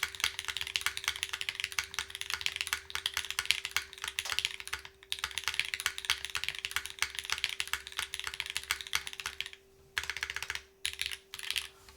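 Typing on a mechanical keyboard fitted with NovelKeys NK Classic Blue switches, a fast, continuous run of crisp clicky keystrokes with brief pauses near the end, close and clear, no talking.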